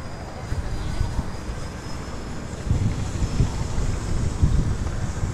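Wind gusting hard across an outdoor field during the maiden flight of an unusual E-shaped RC plane, a steady low rumble of wind buffeting the microphone that swells partway through, with no voices.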